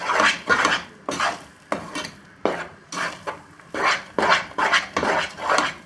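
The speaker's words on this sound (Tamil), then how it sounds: "இது வந்து கை விடாமல் கிண்டிக்கிட்டே இருங்க" A spoon scrapes and clatters against a pan while ghee Mysore pak mixture is stirred continuously, in quick irregular bursts of metallic scraping with brief pauses, close up and alone.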